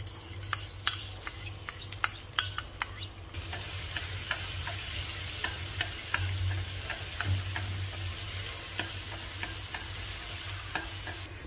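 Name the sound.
garlic frying in oil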